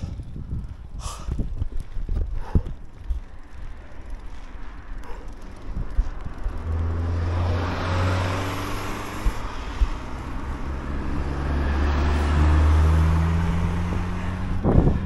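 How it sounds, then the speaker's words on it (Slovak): Cars pass on a hillside road during a cycling trip along the Danube in late September. Wind buffets the microphone as vehicles approach and swell into a low rumbling pass close by. "tie auta spomalia aj do kopca a pekne ťa obídu"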